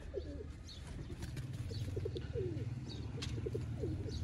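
Dinga pigeons, a Sialkoti breed, give repeated low cooing calls in a steady series under light chirps and a constant background hum, close and moderately loud with no talking.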